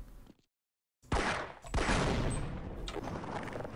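Gunfire in a first-person shooter game facing a Xen invasion, sharp loud shots that burst in suddenly after a moment of silence and ring out into a sustained roar.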